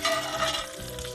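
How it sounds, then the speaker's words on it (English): Garlic fries in a very hot pan beside a searing steak, a loud crackling sizzle with a stirring scrape that eases slightly toward the end. "You see that caramelization on that on the garlic? It's already burning, so you know that this pan is pretty freaking hot."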